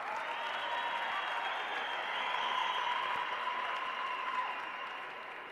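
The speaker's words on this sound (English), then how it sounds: "a round of applause." Steady applause from an audience at the Africa Netball Cup 2024 in Swakopmund, Namibia, heard as an even, somewhat distant wash of clapping that fades slightly at the end.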